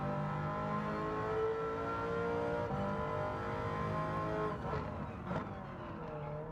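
Alfa Romeo 8C Competizione engine on the Tsukuba circuit in a racing video game, a steady, fairly faint droning engine note that shifts near the end as the revs change.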